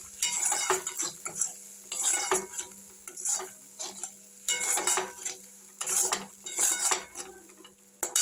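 A utensil scrapes and clinks against a metal pan while turmeric, chili powder, salt and sugar are stirred and sautéed for a shol fish curry; rhythmic, close scraping strokes with faint sizzling underneath.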